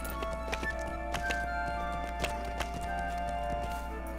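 Horse hooves clip-clopping in the online game The Lord of the Rings Online (LOTRO), a steady walking rhythm of light taps over a constant low hum and background music.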